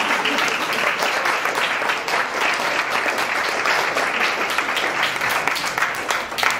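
An audience at a talk claps continuously and evenly throughout, a dense, fairly loud wash of many hands with faint voices mixed in.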